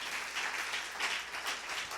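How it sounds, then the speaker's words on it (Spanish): Church congregation at a Spanish-language worship service giving loud applause, dense clapping from a crowd that swells in waves, with a few voices faintly underneath. "Le damos un aplauso fuerte a Jesús"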